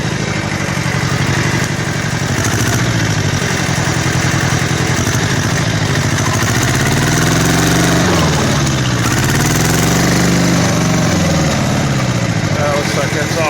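A Kubota L-1500 tractor engine runs steadily in first gear, a loud continuous mid-pitched diesel drone with rising and falling revs partway through as it works a scoop of dirt, with voices talking over it.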